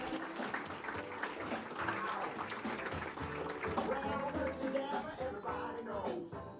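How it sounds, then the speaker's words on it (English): Faint audience applause welcomes a speaker onto the stage at a business talk event, a low steady patter of clapping beneath crowd chatter and voices throughout. "So please, round of applause for Naomi Lopez"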